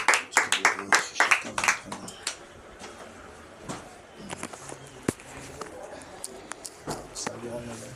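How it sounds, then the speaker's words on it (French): Congregation at a Sunday church service clapping and cheering, with a burst of sharp, dense hand claps at the start that thins into scattered claps and voices, moderately loud and close. "Acclamons très fort pour le roi de roi."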